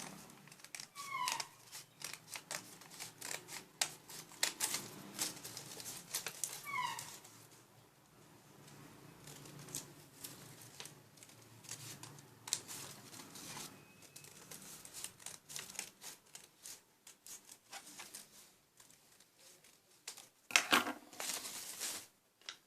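Scissors snip through paper for a folding Ogi fan, giving clusters of close, crisp cuts and paper rustling with pauses between, ending in a louder burst of handling.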